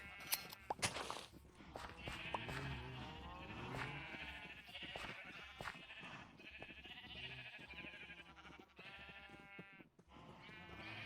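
A flock of Minecraft sheep bleats almost without pause, many wavering calls overlapping at close range, with a few faint footsteps and crunches among them.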